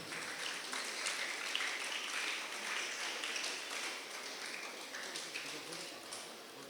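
Audience applause at a school farewell program, a sustained wash of many hands clapping at moderate distance, fairly even throughout.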